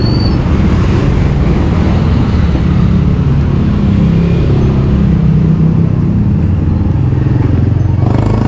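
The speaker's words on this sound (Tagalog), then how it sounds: "Ayan, traffic." Heavy road traffic rumbles loud and close, with a steady low engine drone and passing vehicles, with no talk.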